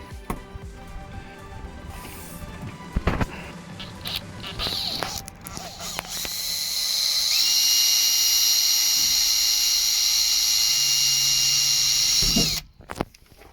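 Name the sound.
power drill driving screws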